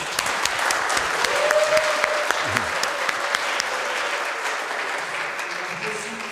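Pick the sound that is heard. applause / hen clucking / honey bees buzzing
applause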